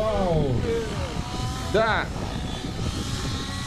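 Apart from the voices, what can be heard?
model helicopter flying overhead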